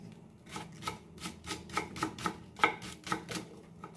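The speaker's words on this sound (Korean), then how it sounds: "대파는 큼직큼직하게 송송 썰어 주시면 된답니다" A knife slices green onion (daepa) into large chunks on a cutting board, about a dozen crisp, evenly paced chops close by, with no talking.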